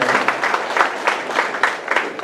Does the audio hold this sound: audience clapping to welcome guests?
yes